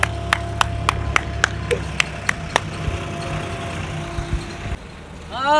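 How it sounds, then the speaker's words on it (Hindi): About ten sharp, separate claps ring out at an even pace outdoors during an early-morning run, welcoming four players. Low traffic rumble continues underneath, and the claps fade before a brief chirping sound at the end. "इन चारों खिलाड़ियों के लिए चमन तालियां बजाइए"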